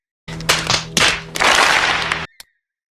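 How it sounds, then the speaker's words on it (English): A short burst of hand clapping and applause rings out, loud and close, in a few quick surges over about two seconds, then cuts off with one last faint tap. "Let's just give him a round of applause."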